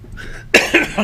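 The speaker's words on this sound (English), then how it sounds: "I can't stop coughing this morning" Several sharp, close coughs burst out in quick succession after a brief quiet moment.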